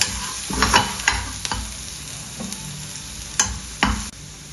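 Onion and garlic fry in a pan while being stirred, a steady close sizzle broken by several sharp scraping clacks of the utensil against the pan, with no talk.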